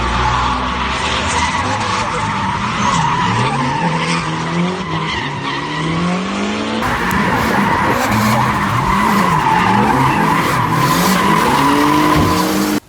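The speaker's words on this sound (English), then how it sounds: "we went to the Keep It Re event for a couple of hours of night drifting" Car tires skid and squeal through repeated sliding passes at a night drifting event, engines revving loudly and continuously with wavering pitch, a dense steady roar throughout with possible faint voices underneath.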